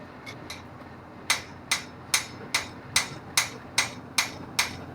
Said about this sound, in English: I'll go back to that same shoulder with that mass pointed down and off the anvil and just flatten out the rest of that sheet metal.